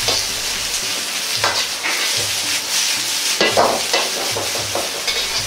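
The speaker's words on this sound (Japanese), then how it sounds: "強火なので温度調整と焦げ付きを防ぐために鍋を振りながら炒めます。" Vegetables stir-fried in a heavy Chinese wok over high heat, a steady loud sizzle broken by repeated scraping and tossing strokes of the pan, continuous and close with no talking.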